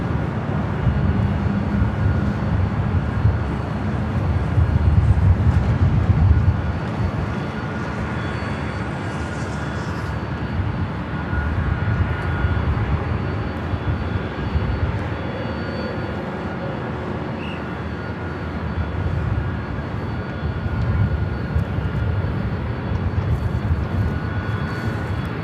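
A Southwest Airlines Boeing 737-700 arriving from Las Vegas at Los Angeles airport, a steady broad jet roar that holds loud throughout, swelling slightly early on and rumbling on without a break.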